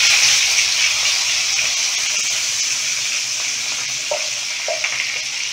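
Cumin seeds sizzling in hot oil, a loud, steady hissing fry close up with a few faint clicks near the end and no talk.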